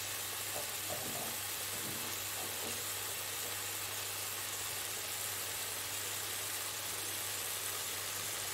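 Elderflower pancakes frying in a pan give a constant dense sizzle and hiss, with a few soft scrapes early on as they are pressed down, alongside a steady low hum.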